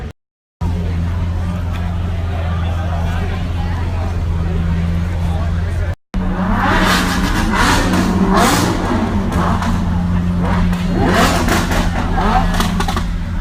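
Lamborghini sports cars rev and accelerate on a street in Australia, a loud, continuous engine roar rising in bursts over crowd chatter, with a brief dropout early on and another near the middle.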